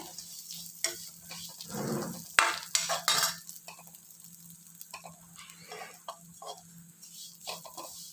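Vermicelli, about a hundred grams, roasting in ghee in a pan for a Navaratri offering: a soft, steady sizzle under intermittent stirring scrapes, with a few louder clatters of the spoon against the pan in the middle.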